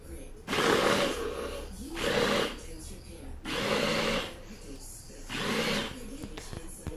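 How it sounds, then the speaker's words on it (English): Four bursts of a blender chopping boiled onion slices in about half a cup of water, each loud whir running roughly a second with quieter pauses between. "Place the onion slices inside the blender, add approximately half a cup of water, turn on the blender."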